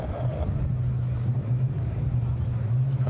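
Car driven by Lord March out onto the Goodwood race circuit at the 75th Members' Meeting, a steady low engine rumble with a loud, continuous crowd and wind wash over it, with indistinct voices mixed in.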